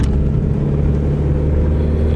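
A 2004-2012 Toyota Camry with a 2.4L engine and a repaired knock sensor drones with a low, steady engine rumble from inside the cabin while accelerating, loud and continuous with no talk.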